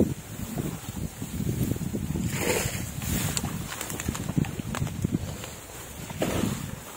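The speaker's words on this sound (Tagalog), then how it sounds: "Bah, lumakas naman ang hangin." Strong wind gusts roar across the microphone outdoors beside an overgrown stream, a steady rumbling buffet with brief swells and no talk.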